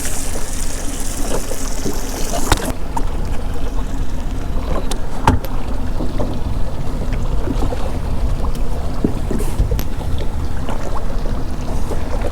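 A fishing boat's motor drones steadily as the boat pulls away across the water, a continuous low rumble with water wash and no voices.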